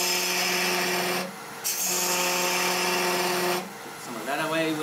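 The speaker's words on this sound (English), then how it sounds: "Put the spindle gouge in." A spindle gouge cuts a wooden goblet spinning on a lathe, giving a loud, steady scraping hum that breaks off twice in short pauses before resuming.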